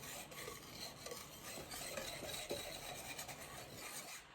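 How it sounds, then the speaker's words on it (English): A whisk scrapes and stirs through dry flour with baking soda and baking powder in a bowl, making soft, continuous rubbing and rasping strokes close up with no voices. "And just whisk that all up nicely. Get all the baking soda and baking powder mixed through your dry flour."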